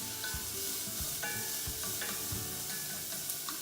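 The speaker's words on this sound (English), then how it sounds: "I'm going to cook this up just a few minutes until the onion is a little tender and the garlic is" Chopped onion and garlic sauté in a hot pan with a steady, close sizzle, punctuated by the scrape and clatter of stirring throughout.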